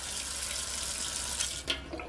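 Water running from a tap into a sink, a quiet steady splashing stream with a couple of brief louder spatters near the end, alone with no talking.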